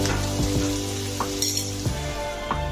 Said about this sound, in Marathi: जिरे, आलं लसूण मी ठेचून घेतलेलं आहे, हिरवी मिरची, हे चांगलं आपल्याला परतून घ्यायचं आहे।